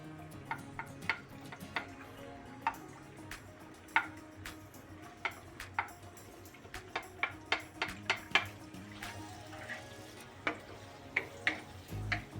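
Red onion frying in a pan for chicken curry, a soft sizzle with frequent sharp clicks and taps of a utensil against the pan, fairly quiet and close, with no talking.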